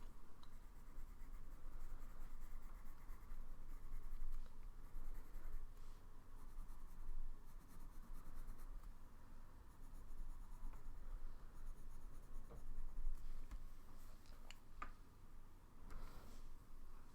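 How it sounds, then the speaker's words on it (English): Pencils drawing on paper, with soft, continuous scratchy strokes and scattered faint ticks and clicks, heard close and quiet with no talking. "I love the subtle sounds of the pencils on the paper"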